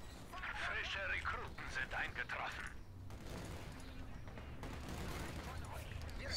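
Machine-gun fire from the Company of Heroes 2 real-time strategy game, distant bursts of rattling gunfire under someone speaking German, with game effects filling the background.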